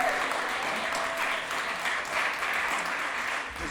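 Steady applause from a sizable awards-show audience, sustained and even throughout, heard at a moderate distance with no break.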